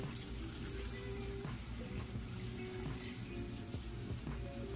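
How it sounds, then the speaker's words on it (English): Steady rushing water pours continuously into a pot, a dense even hiss that holds at the same level throughout without pauses. "Go ahead and fill the pot about halfway with water."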